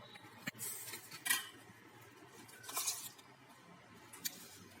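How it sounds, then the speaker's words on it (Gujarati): A spoon stirring thickening milk cream in a pot: faint, irregular metallic scrapes and light clinks against the pot, with a few louder knocks between quieter stretches. "ઘટ મલાઈ બની જાય ત્યાં સુધી આ રીતે આપણે ચમચી ફેરવવાની હતી"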